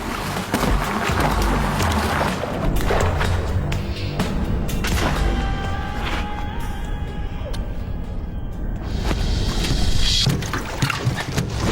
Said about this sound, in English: I actually feel the boat being buffeted as they're banging into it.